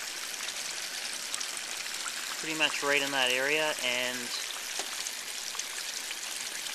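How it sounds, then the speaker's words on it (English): A full-stream garden hose pours steadily over roof shingles and a leaf guard, a constant hissing rush of water that runs throughout while someone speaks briefly over it. "we're about 3 shingles from the top here with a full stream garden hose"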